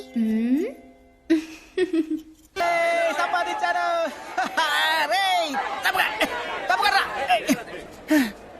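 A large crowd of people mills about close by, with overlapping voices shouting, chattering and laughing in loud, uneven bursts.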